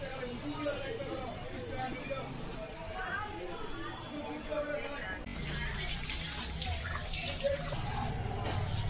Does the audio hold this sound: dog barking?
no